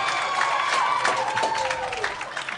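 A football crowd at a varsity game cheers and roars in a steady wash of noise, with a commentator talking over it and a faint whistle-like tone sliding down.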